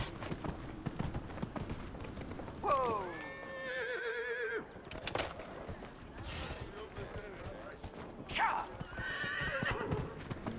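A horse in Dragon Age Inquisition gives a loud whinny, then clip-clops along with hoofbeats and another neigh later, while a person talks intermittently over the game sounds.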